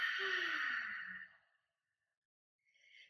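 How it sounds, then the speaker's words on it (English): A single deep, breathy exhale during a yoga stretch lasts about a second and a half, close and soft, then fades into silence before a faint breath returns at the end. "Big inhale. One more exhale."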